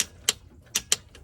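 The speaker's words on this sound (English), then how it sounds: "I lubed up the clicker on my torque wrench so now it makes the sound properly." A few sharp mechanical clicks from a lubricated torque wrench clicker during a VR6 water pump job on a Porsche Cayenne, Audi Q7 or VW Touareg, three or four close ticks in quick succession.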